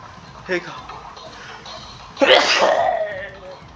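A single loud sneeze up close, preceded by a short sharp intake of breath, in an otherwise quiet room.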